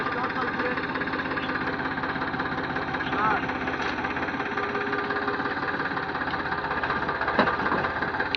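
A tractor spreads cow dung manure across a farm field. Its engine runs close and steady, with a throbbing, knocking drone that holds at an even level the whole time.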